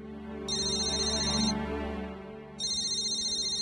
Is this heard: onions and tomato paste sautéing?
no